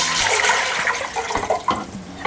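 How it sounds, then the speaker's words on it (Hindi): Water poured steadily from a vessel into a large cooking pot, one litre for sugar syrup for kala jam, giving a continuous loud splashing rush with no talk over it. "उसमें डालेंगे हम 1 लीटर पानी"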